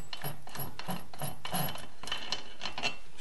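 A piston stop is unscrewed from a petrol chainsaw or trimmer, giving a close run of rhythmic ratcheting clicks, about eight in a row, alone without speech.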